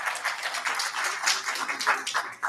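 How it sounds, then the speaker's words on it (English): A room at a Seven Hills, Ohio public meeting about Hemlock Creek breaks into applause, a dense, steady patter of many hands clapping throughout with no talk over it. "he deserves a round of applause for that"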